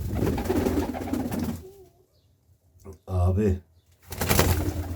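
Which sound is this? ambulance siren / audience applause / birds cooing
birds cooing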